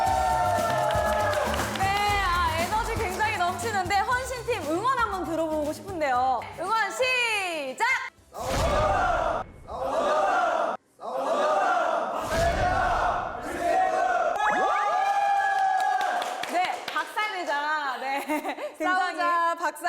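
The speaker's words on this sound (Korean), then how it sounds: "함성 한번 질러볼까요? 하나, 둘, 셋!" A group of military personnel gathered at a table tennis hall lets out a loud collective shout, voices yelling and whooping together in energetic bursts, with laughter and chatter between them.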